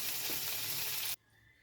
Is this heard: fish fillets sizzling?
yes